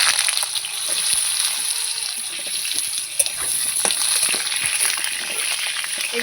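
Potato pieces frying in oil tempered with a bay leaf, a steady close sizzle with scattered pops and crackles throughout.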